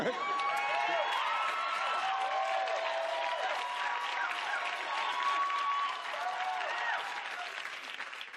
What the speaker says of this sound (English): If I just stand here, will you keep applauding?